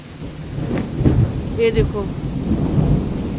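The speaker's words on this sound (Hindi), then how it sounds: "ये जो बिजली की कड़कड़ाहट होती है ना" Thunder rumbles and cracks through a steady downpour of heavy rain in hilly farmland, the rolling booms swelling and fading over constant rain hiss, with a brief spoken voice near the start.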